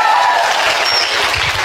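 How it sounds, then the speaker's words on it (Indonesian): Congregation clapping for a person during a church sermon, a brief, dense burst of many hands applauding loudly. "Yang sudah bisa hafal kita tepuk tangan buat orangnya"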